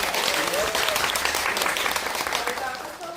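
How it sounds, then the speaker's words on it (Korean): Applause from a cinema audience at a film talk event, honoring an actor, plays as steady, dense clapping at moderate volume throughout, easing slightly at the end. "우리 정규현 배우님 박수 한번 부탁드립니다."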